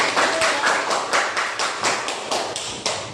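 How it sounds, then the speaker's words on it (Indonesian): Students in an English classroom clap together in a slow, fairly even rhythm, about a dozen distinct claps across a few seconds, close and moderately loud with no talk over them. "Beri tepuk tangan buat kalian."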